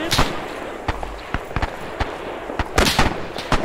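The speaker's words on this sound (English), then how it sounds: "Oh, we're taking fire." Gunfire and explosions in a war video game: sharp irregular bangs and shots crackle in scattered bursts, some close and loud, others faint, with brief voices in between.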